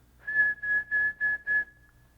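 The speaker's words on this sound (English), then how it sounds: "When you whistle" A person whistles through puckered lips, as a child learns to, in a harmonica lesson: five short, evenly spaced notes at one steady pitch, close and clear, with no talking.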